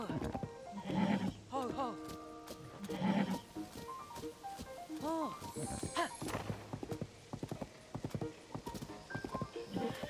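Rhythmic hoofbeats of a horse cantering in Zelda: Tears of the Kingdom, with repeated neighs and whinnies, while a person talks over the game audio.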